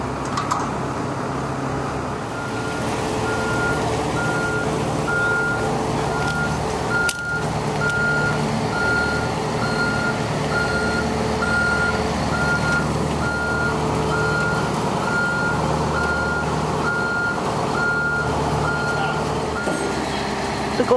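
A Goldhofer heavy-haul transporter carrying a steam drum through town, its reversing alarm sounding a steady series of evenly spaced beeps over a low diesel engine rumble for about twenty seconds.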